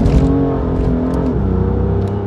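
A Stage 1 BMW M2 with its 430 hp inline six and a Milltek exhaust revs hard close up, its loud rasping tone holding high and then dropping as the throttle eases.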